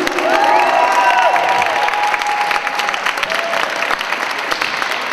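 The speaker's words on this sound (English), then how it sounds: "Alright, okay, enough clapping." An audience claps its hands in sustained, dense applause that stays loud and steady throughout, with faint crowd voices and a few whistle-like cheers mixed in.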